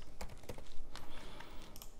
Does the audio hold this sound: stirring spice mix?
no